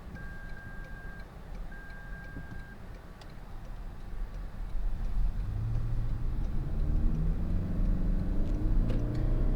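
A 2024 Toyota Crown Limited hybrid with an ECVT drives along, its engine hum and road rumble building as it accelerates and holds a droning higher RPM, with faint cabin ticks early on.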